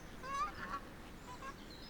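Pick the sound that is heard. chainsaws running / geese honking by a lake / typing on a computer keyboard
geese honking by a lake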